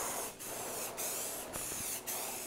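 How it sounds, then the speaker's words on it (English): Aerosol spray can of sandable primer guide coat hisses onto a truck body in four loud, steady bursts close by, separated by brief pauses. "now I'm gonna spray a guide coat, just a sandable primer"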